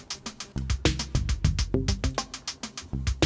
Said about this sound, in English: What you're hearing right now is the Turing Machine.